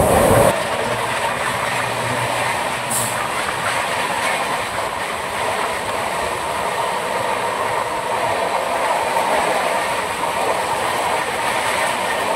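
The Tamralipta Express runs fast from Howrah toward Digha in light rain, a steady, loud rolling rumble with rhythmic clickety-clack of wheels on the rails, heard from on board and continuing without a break.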